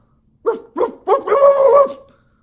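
A human voice imitates a dog barking: two short separate yips, then a longer drawn-out bark-like cry, close and clear against silence.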